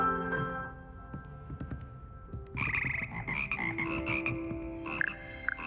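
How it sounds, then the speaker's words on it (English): Croaking frogs of the Hogwarts Frog Choir in Hogwarts Legacy make a layered chorus of deep and higher croaks over sustained musical tones, growing denser and louder partway through, with no talking. "Here perch the slimy yet symphonic frogs that comprise the Hogwarts Frog Choir."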